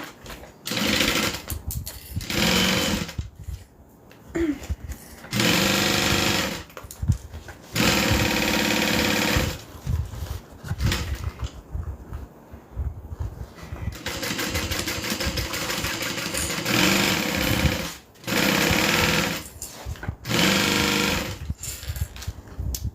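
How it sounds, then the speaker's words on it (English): Sewing machine sewing fabric in bursts of fast stitching, several runs of a few seconds each separated by pauses and brief talk, close and fairly loud. "Gonna sew this down."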